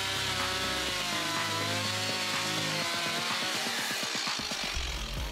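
A Stihl MS 170 chainsaw with a compact 30.1cc engine cutting wood, its engine droning steadily and then revving and bogging in quick pulses as the chain bites, loud and close.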